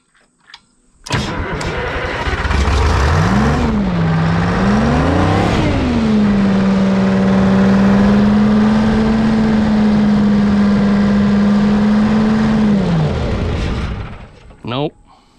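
A 1978 Hein Werner 25-ton excavator's diesel engine runs loud and close, its pitch rising and dipping twice as the throttle changes before settling into a steady low drone that winds down near the end, with people talking over it.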